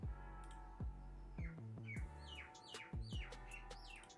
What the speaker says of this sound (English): Oh, now it's really singing. Oh, it's right here, the bird I was talking about.